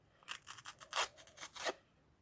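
A small paper surprise packet with a perforated seal is torn open by hand, giving a quick series of about eight crisp, close paper rips and crackles, quiet against a near-silent room.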